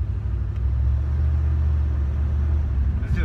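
A Chevrolet El Camino driving along, low, steady engine rumble and road noise running throughout at moderate loudness, with a brief faint click near the end and no speech.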